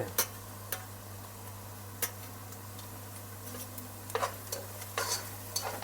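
A spoon stirs ginger garlic paste into frying onions in a pan, making scattered light scraping clicks over a faint sizzle and a steady background hum.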